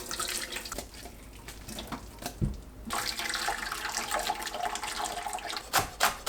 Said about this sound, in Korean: 뜨거운 물로 헹궈냅니다.